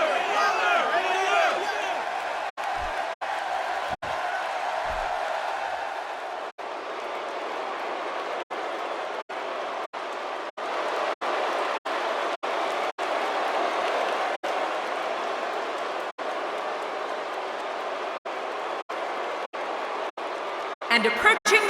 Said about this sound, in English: This crowd can't stand it. They're absolutely showering him with boos.